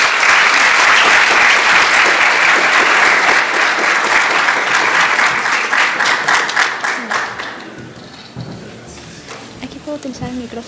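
A large audience at a marketing conference bursts into dense, loud applause to welcome a speaker, sustained for several seconds before thinning into scattered claps and fading.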